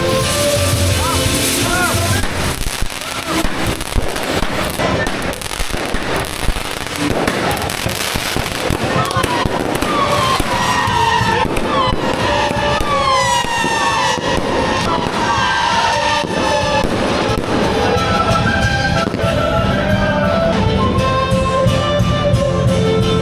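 Fireworks display in Cuenca, Ecuador, bursting loudly and continuously, dense crackles and booms layered together, with a crowd's murmur and occasional cheers underneath.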